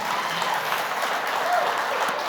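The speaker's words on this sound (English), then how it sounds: "let's give Forrest a round of applause here" Audience applause at a motivational talk, a steady wash of many hands clapping that holds at an even level for the whole stretch, with faint voices mixed in.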